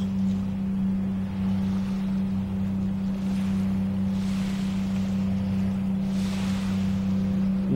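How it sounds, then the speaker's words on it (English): A low steady engine drone from boats out on the water near a lighthouse hums beneath wind and gentle surf, distant and continuous with no talk. "You can probably hear some boats off into the distance there."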